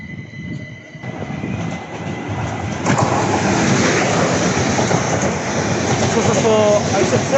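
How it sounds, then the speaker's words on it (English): A South Western Railway Class 444 electric train passing at Clapham Junction, a loud, steady broadband rumble and rush building and holding close by, with faint squealing tones near the end. "Some South Western Railway class 444s somewhere"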